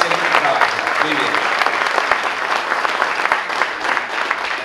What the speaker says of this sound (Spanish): un gran aplauso para todos ustedes, los productores